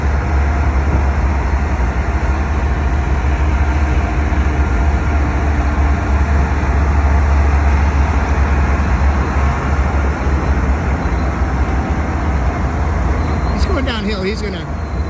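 BNSF ES44C4 diesel locomotive hauling a freight train gives off a steady, heavy low engine drone, with someone talking over it and a brief rising squeal near the end.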